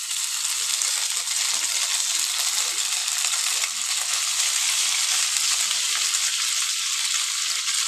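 Chowmein with fried potatoes sizzles and crackles in a pan while being stirred, a steady close-up frying hiss throughout.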